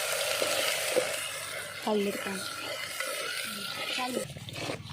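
A ground spice paste for country chicken curry sizzles steadily in a hot pan, a continuous close frying hiss, while a person talks over it.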